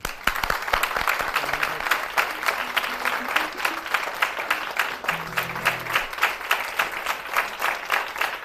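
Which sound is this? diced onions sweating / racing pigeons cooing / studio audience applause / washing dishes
studio audience applause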